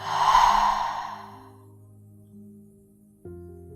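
A single slow mouth exhale comes as a soft, airy ah at the start and tapers off within about a second, leaving gentle droning background music.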